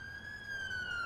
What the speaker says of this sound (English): Police car going by, I guess.